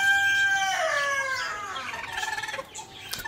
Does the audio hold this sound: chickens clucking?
yes